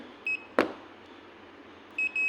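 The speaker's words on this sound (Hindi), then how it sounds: "ये देखिए टच करते हैं तो इस टाइप की बज़र सुनाई देती है।" A multimeter's continuity buzzer beeps as its probes touch together, giving two short, clear electronic tones near the start and two more near the end, with a single sharp click between them and little else around.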